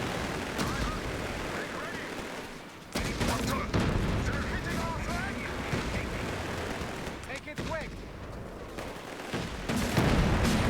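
Tank front guns and turret fire cutting down infantry in Company of Heroes 3, a dense, continuous clatter of gunfire with heavier bursts and blasts, loud throughout, with someone talking over the battle.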